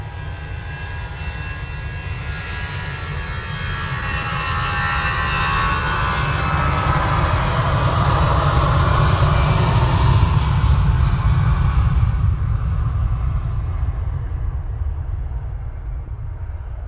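An airliner takes off at Manchester Airport bound for Paris. Its jet engines roar in a broad, steady rush that swells and then slowly fades as the plane climbs away.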